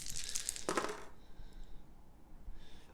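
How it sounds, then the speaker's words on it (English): Three dice are rolled during a game of Game of Thrones Risk, a quick burst of clattering and rattling that settles within about a second, followed by quiet room tone and faint light clicks. "We can still roll the 3 dice."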